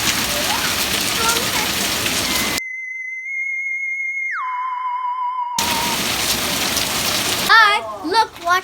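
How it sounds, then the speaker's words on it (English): Rain falling as loud, dense hiss that stops suddenly for a stretch of steady electronic tones, then returns before fading into chirpy, sweeping sounds. "I can't get any rain on my hands"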